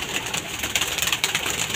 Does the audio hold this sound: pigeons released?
yes